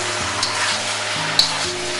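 Ribeye steak strips stir-frying in a hot pan with oyster sauce, giving a steady, loud, close sizzle for the whole stretch, with faint low tones humming underneath.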